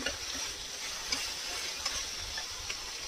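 Raw hilsa fish with plenty of slit green chillies fries in a pan for a sour tamarind curry, making a soft, steady sizzle with a few faint ticks and light stirring touches. No talk is heard.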